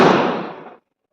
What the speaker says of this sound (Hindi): बैकग्राउंड में पटाखों की आवाज आपको आएगी